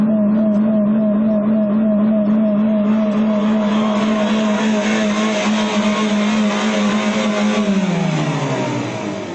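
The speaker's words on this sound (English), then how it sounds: "I'll put the vehicle in neutral. The engine's going to race, but that's okay because it's disconnected from the wheels." A car engine in neutral with a simulated stuck throttle races at sustained high revs, a loud steady roar held close for several seconds before the pitch begins to drop near the end.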